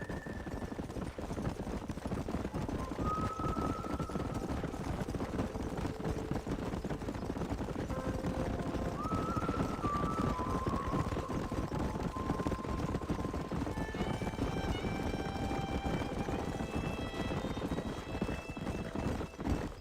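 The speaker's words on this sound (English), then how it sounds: "There's the horses!" Wild horses in the Red Dead Redemption video game move with a steady, dense rumble of hooves while short neighs and whinnies rise now and then above the running.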